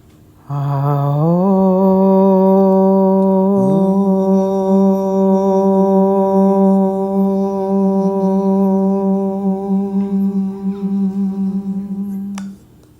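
A group holds one long, deep Om together at the close of a yoga practice, a sustained, steady, resonant hum that is loud and near and slowly fades. No speech is heard alongside it.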